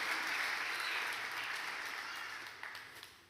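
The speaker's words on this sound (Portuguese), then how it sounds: "Se é para aplaudir Jesus, aplauda o Senhor com alegria" Church congregation applauding during a sermon, a brief, even patter of many hands clapping that fades slightly toward the end.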